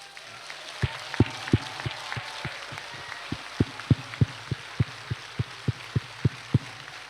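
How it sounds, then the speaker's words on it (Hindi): Sharp, evenly spaced claps repeat steadily, about three per second, loud and close over a quiet background hum, more like one person's rhythmic clapping than a crowd. "इनको आप लोग अपने जगह पर खड़े होकर तालियों से अभिनंदन करें।"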